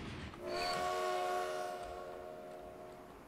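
A train in the railway-building game Transport Fever sounds a long horn at moderate distance, a sustained tonal blast rising in and slowly fading, with no talk over it.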